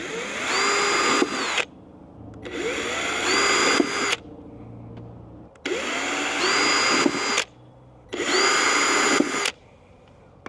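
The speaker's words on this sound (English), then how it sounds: "Now I'm going to pre-drill screw holes in these elongated screw positions." A power drill pre-drilling screw holes for mounting an RV backup camera whines in four loud bursts of about two seconds each, with short pauses between them.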